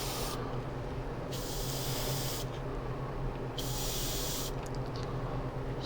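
Airbrush spraying clearcoat onto a 1/144 Gundam OZ-06MS Leo model kit, a soft airy hiss running continuously, with three brighter bursts of spray and quieter pauses between them.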